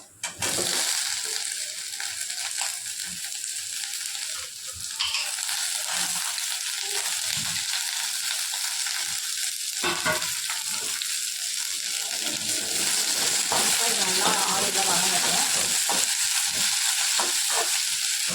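Sliced ivy gourd fries in a pan over low flame, a dense, constant sizzle with intermittent scraping and stirring noises close by, running for a long stretch without pause.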